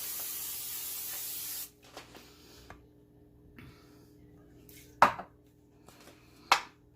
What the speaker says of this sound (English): So now I'm just going to take my spray. I'm going to spray my pan liberally.